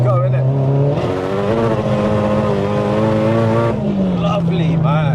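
A 600bhp Nissan Silvia S15 with a 2.1L stroker engine is driven hard, its engine note loud and close as it revs and climbs steadily through a gear, then drops back, with no talk over it.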